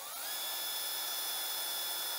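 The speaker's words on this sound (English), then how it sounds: "So I've just drilled out the hole" Small power drill with a number 60 bit boring out a hole in a throw bar for a model railway switch machine, a steady high whine that spins up quickly and then holds, loud and close, with no talk.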